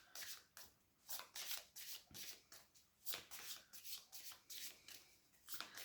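Tarot cards from a cat-themed major arcana deck being shuffled by hand, with repeated crisp riffling bursts and softer slides in between, close and fairly quiet, with no voices.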